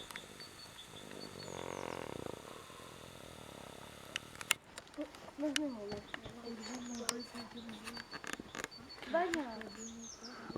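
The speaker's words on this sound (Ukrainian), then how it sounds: "Співають птахи, коли личать журавлі." On a frosty early morning in a forest on a hiking route, cranes call and small birds sing in scattered, moderately distant bursts, with a person talking over parts of it.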